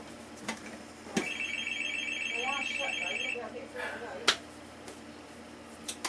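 Phone ringing indoors in a home-brewing setting, a repeated electronic ring pattern lasting a couple of seconds over room noise and a few sharp knocks.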